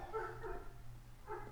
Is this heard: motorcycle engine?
no